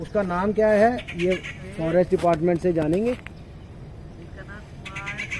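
Birds calling in the Kathlour Wildlife Sanctuary, with a few close, faint chirps and calls, mostly buried under someone speaking Hindi, plus a short call after he stops.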